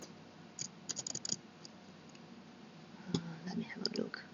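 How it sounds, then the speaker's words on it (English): Computer keyboard keys tapped during AutoCAD work, two short bursts of light, quick clicks, faint and close, with soft background room noise between them. "type in 0."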